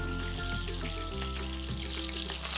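Marinated tuna steak sears on a hot grill or pan with a steady broadband sizzle and frying crackle, loud and close throughout, with a low hum underneath and no talking.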